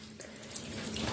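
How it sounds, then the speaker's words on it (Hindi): Water runs steadily from a tap in a continuous hissing splash that grows slightly louder, close by and with no voices over it. "पानी आ रहा है।"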